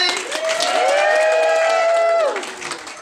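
Relatives of the bride and groom at a Thai wedding ceremony cheer and clap: one long, sustained whooping cheer rises loud and close over scattered applause that fades at the end.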